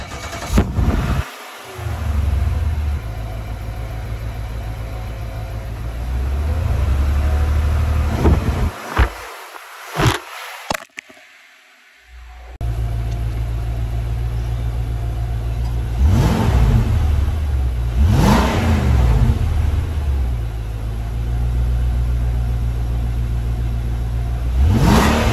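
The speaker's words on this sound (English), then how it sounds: "That's the standard exhaust. Pretty normal, pretty basic, pretty quiet." A car on its standard exhaust is started and revved, a fairly quiet idle rising into several sharp throttle blips with gaps and a brief near-silent pause between, recorded close by with some wind buffeting.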